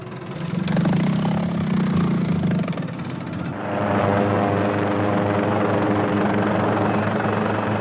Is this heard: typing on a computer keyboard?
no